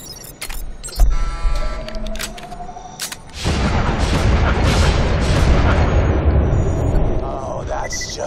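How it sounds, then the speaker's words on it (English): The moonshot cannon in Borderlands: The Pre-Sequel fires with a sudden heavy boom, followed by a long roaring, crackling blast and rumble that stays loud for several seconds, with mechanical clicks and a voice heard before the shot. "Firing the moonshot."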